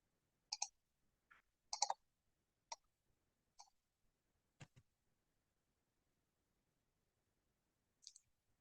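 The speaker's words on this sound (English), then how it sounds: "I'm typing." A few quiet, irregular keyboard clicks tap out in sparse bursts, separated by near silence.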